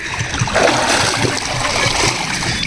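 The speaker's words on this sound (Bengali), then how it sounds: "ডুব মেরে আস্তে স্লো মোশন ডুববে" Water churns and splashes continuously as people dunk themselves in the Ganges during a holy bath, a loud, close sloshing.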